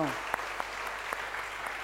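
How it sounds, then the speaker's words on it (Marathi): A church congregation clapping in thanks, a soft, somewhat distant patter of hands with a few sharper claps standing out, under a faint murmur. "टाळ्या वाजून प्रभूला धन्यवाद देऊया"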